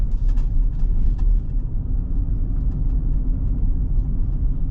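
Low, steady rumble of a 2025 Nissan Armada PRO-4X truck cruising on the road, a continuous drone of road and engine noise inside the cabin with no talking.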